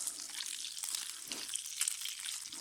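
Food sizzles and fries steadily in a pan over a fire at a winter bushcraft camp, a continuous close crackling hiss with no talk.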